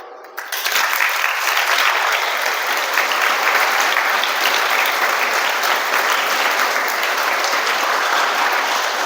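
An audience breaks into sustained, even applause that starts suddenly and fills the room without a break.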